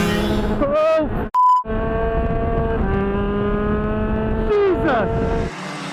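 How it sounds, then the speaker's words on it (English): A shifter kart engine at the Atlanta Motorsports Park kart track whines loudly and steadily, its pitch climbing and falling through gear changes, with a brief beep near the start. "Well, Jack, we just got done with my first time in a shifter kart here at the kart track at Atlanta Motorsports Park"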